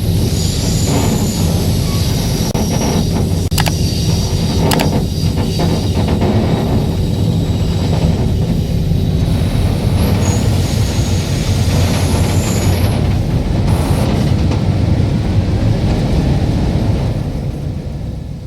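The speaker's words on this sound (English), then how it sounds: "Our train pulls into Camden Station just about on time." A MARC commuter train pulls into Camden Station, a loud, continuous low rumble of wheels and engine with squealing tones and hissing brakes, steady throughout and easing slightly at the end.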